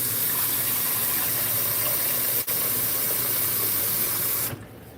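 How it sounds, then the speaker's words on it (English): Water heats in a pot for ramen, a steady loud hiss and rushing bubble noise that continues unbroken before dropping away near the end. "we're going to boil some water first thing"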